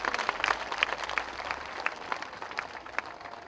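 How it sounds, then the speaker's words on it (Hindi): Sustained applause from an audience at an election rally for Modi, a dense patter of many hands clapping at moderate distance, steady for several seconds. "तो एक बार ताली बजाइए मोदी जी के लिए जोर से।"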